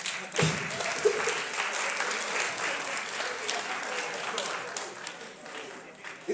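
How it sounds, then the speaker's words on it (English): An audience claps steadily through a drumming master class, a dense, sustained wash of applause at moderate distance with a few sharper hand claps standing out near the start, and a voice faintly audible beneath. "Clap for that."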